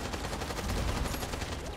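An assault pistol fires rapidly in the video game Immortal Redneck. Loud, dense shots rattle continuously with no gaps across the brief burst.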